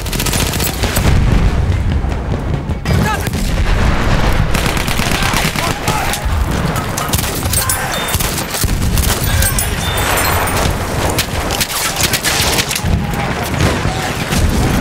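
Battlefield 1 machine gun fire, dense rapid bursts and booming shots crackling almost without pause over a long stretch, loud and close, with occasional voices in the mix.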